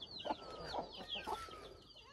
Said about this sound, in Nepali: गएको कुखुरा